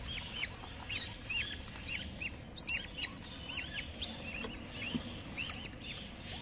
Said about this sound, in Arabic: خمسة فراخ